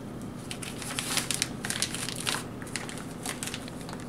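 A plastic pastry piping bag crinkles and crackles in the hands as a nozzle adapter is pushed into its cut tip, a close, steady rustle with brighter crunchy bursts and no talking.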